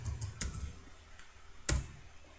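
Sparse keystrokes on a computer keyboard while entering PHP code, a few isolated clicks with two sharper taps standing out against a quiet room background.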